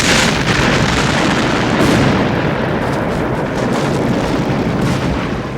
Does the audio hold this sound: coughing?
no